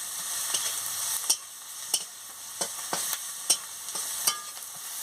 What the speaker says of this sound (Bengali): লঙ্কার গুঁড়ো আর হলুদের গুঁড়ো একসঙ্গে আমি দিয়ে দিচ্ছি, দিয়ে ভালো করে মশলাটাকে ভেজে নিচ্ছি।